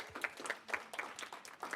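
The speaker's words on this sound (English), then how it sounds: "So clap it up for the sponsors." Sparse clapping from a small audience at a security news talk, scattered claps in an uneven rhythm, fairly quiet and brief with no talking.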